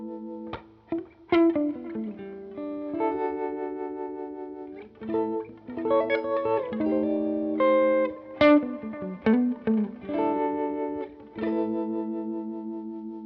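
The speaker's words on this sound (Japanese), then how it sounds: "こうやってコードを伸ばす時には深くトレモロをかけたいんだけど、その間に入る、こういった時にはそこまでトレモロいらないんですよね。" An electric guitar runs through a distorted, chorus-laden effects chain controlled by a Casio Dimension Shifter, playing sustained chords and short melodic phrases that pulse with tremolo, clear and upfront with no voices.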